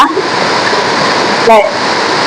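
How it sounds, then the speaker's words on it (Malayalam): River water gushes under a raised dam shutter, making a loud, continuous roar close by. A brief voice cuts in near the middle. "ശക്തിയായിട്ട് ഇവിടെ ഞങ്ങളുടെ വെള്ളം ചാടും"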